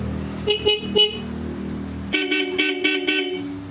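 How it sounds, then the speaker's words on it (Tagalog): A loud Bosch Europa horn mounted on a Kymco AK 575 scooter sounds in three short beeps, then after a pause, four more brassy blasts in quick succession. "Ito nakamount na, pabubusinahin natin."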